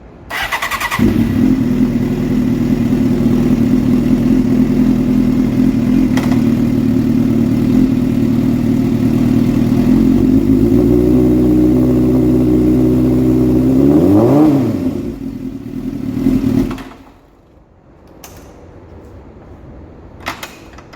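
A street bike motorcycle idles steadily near the microphone after starting, then revs rise and fall as it is run through the gears, a sharp throttle sweep near the end before the engine cuts and quiet follows.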